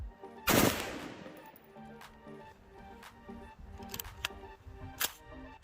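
A firearm fitted with a Big Daddy Unlimited Wide Open Trigger fires one loud, close shot. Several sharper, lighter cracks and clicks follow at irregular intervals.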